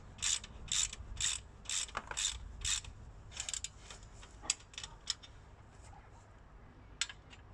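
Quick bursts of ratcheting clicks from a ratchet spanner working on a Land Rover Discovery 2 Td5's brakes, several short runs in a row, close by, then sparser clicks and small knocks with no talking.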